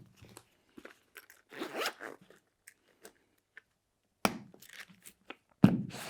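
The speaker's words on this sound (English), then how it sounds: "We can close this zipper." Short rustling scrapes and clicks close up, with a brief zipping rasp as a zipper on a rifle magazine case is closed, among quiet handling noises; no voices.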